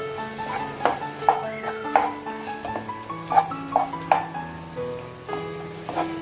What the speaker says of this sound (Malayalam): വെച്ചിരിക്കുന്ന തക്കാളി ഇതിലിട്ടിട്ട് നന്നായിട്ട് വഴറ്റിയെടുക്കണം